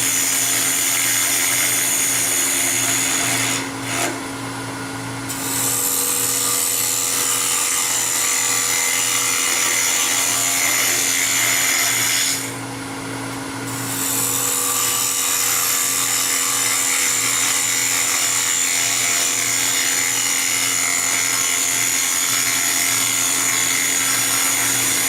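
A lathe tool cuts a very shallow hole into a turned wood Beads of Courage box, a steady loud mechanical whir with a constant hum running throughout, briefly dipping twice as the cut pauses.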